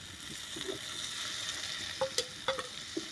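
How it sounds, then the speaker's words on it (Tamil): Tomato and curry leaves sautéing in a pan, a steady close sizzle with a few light spatula clicks and scrapes toward the end, no talking. "தக்காளியும் கருவேப்பிலையும் போட்டுக்கலாம் ஃப்ரெண்ட்ஸ்"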